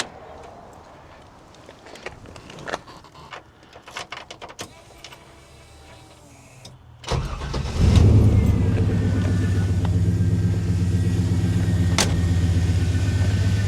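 A 1957 Pontiac Chieftain resto-mod engine cranks with scattered clicks, catches after several seconds and settles into a loud, steady rumbling idle close by.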